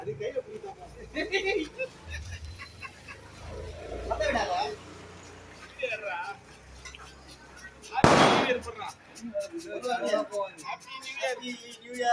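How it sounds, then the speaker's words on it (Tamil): At a New Year celebration, a single loud firecracker bang cracks out midway, with people chatting and scattered smaller pops before and after. "போடுறா வெடிய"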